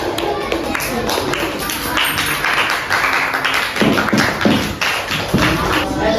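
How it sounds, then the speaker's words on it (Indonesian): Classmates in a classroom clap for a student, a burst of scattered hand claps and taps mixed with a teacher's voice and children's chatter, fairly close and continuous. "tepuk tangan untuk teman kalian Talita"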